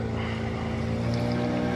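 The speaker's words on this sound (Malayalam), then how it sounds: "ഓപ്പോസിറ്റിലൊരു ബോട്ട് വരുന്നു" Steady low engine drone of a motorboat passing through a mangrove forest in Pondicherry, with water wash, continuous and fairly close, no voices.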